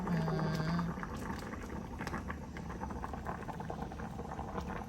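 Bamboo shoots boil in a pot with a continuous bubbling and gurgling. A brief hum sits at the start, and no one talks.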